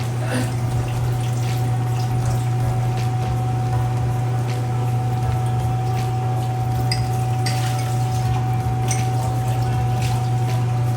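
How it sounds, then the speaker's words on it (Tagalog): Water pours steadily into a pot of sotanghon, a Filipino noodle dish, as a continuous close splashing rush with a low hum beneath it and occasional faint clinks, and no talk over it. "Pero lalagyan pa ng tubig na yun."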